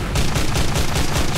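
Rapid gunfire pounds at a warship in the naval battle video game War Thunder, a dense, loud burst of overlapping shots rattling in quick succession with no pause.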